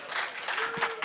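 Brief burst of audience applause at a quantum computing and Bitcoin summit as a speaker is welcomed, a dense crackle of many clapping hands filling about a second.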